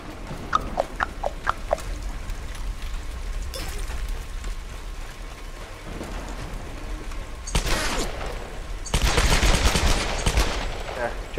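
Tomb Raider: Definitive Edition video game gunfire, scattered shots early on, then louder bursts around the middle and a dense volley near the end, with a steady background hiss and brief game sounds.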